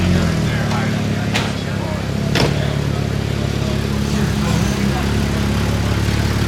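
A straight-piped Ferrari 348 idles on a Miami street with a deep, raspy, continuous rumble and brief sharp clicks. Loud voices talk over the engine.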